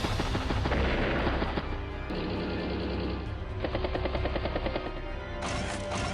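A battlecopter attacking in Advance Wars: Days of Ruin, with rapid machine-gun fire and rotor-like chopping alongside booming impacts. Game music tones run throughout at a steady, loud level, with no talking.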